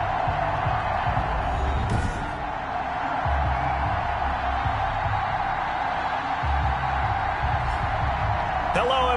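A stadium crowd roars before a video-game NFL matchup between the Los Angeles Rams and Buffalo Bills on PS4, a steady, loud, dense wall of cheering that holds throughout, with a few brief sharper whoops rising out of the din.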